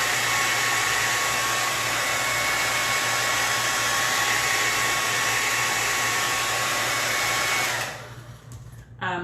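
A hair dryer blows steadily on its high setting for about eight seconds, drying Christmas ornament signs, a loud continuous whooshing roar, then cuts off with a few faint clicks and handling sounds.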